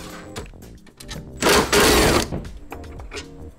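A ratchet with a 10mm socket turns out a bolt holding a Toyota Tacoma taillight, giving a close burst of rapid clicking that stands out over quieter handling noises.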